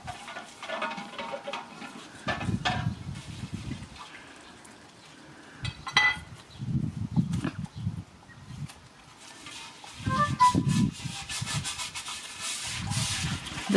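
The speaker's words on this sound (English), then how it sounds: "That noise you can hear is Houston cleaning out the bird bath" A thrush splashing about while cleaning out a garden bird bath in Lower Hutt, New Zealand, giving repeated bursts of scratchy, rubbing water churning up close with quieter gaps between.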